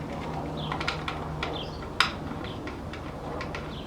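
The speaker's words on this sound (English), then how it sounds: "Put our hex wrench in there" A hex wrench clicks and ratchets while fastening a bolt during a Fuel Moto Stage 1 air filter install on a 2016 Harley-Davidson Road Glide Ultra, giving soft, irregular metallic ticks close up with one sharper clink midway.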